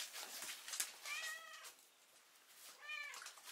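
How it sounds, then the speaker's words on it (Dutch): Two clear meows from a cat, spaced nearly two seconds apart, sound close over a hissy, noisy indoor background. "jij bent ook de enige kat die gewoon aan het mouwen is"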